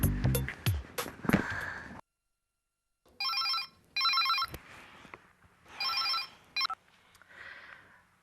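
A telephone rings in several short electronic bursts after some clattering noises, with brief pauses between rings.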